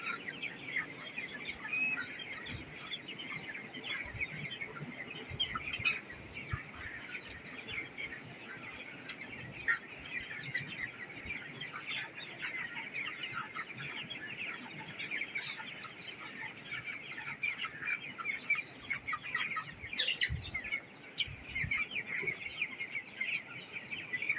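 A large poultry farm holding about three thousand chickens fills the air with a steady, dense din of clucking and chirping from the flock, continuous and fairly even throughout with no talking.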